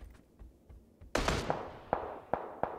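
Gunfire from nearby players in the video game PUBG: a burst of sharp, loud cracks followed by several evenly spaced single shots, with fainter distant pops before them and no voices.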